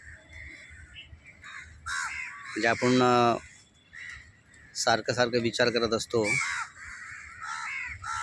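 Several crows caw loudly in bursts while bathing in a garden, some close and harsh, with someone talking in between.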